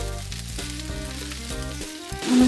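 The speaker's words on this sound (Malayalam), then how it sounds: "നമുക്ക് ആവശ്യമുള്ള നൂഡിൽസും കൂടി അതിലേക്ക് ആഡ് ചെയ്ത് ലാസ്റ്റ് ഇൻഗ്രീഡിയൻ്റ് വാങ്ങും കേട്ടോ. നന്നായിട്ട് ഇളക്കി മിക്സ് ചെയ്ത് റെഡിയാക്കാം." Noodles tossed into a pan for chicken chow mein crackle and sizzle steadily as they are stir-fried, with a low background hum and a louder clatter of stirring near the end.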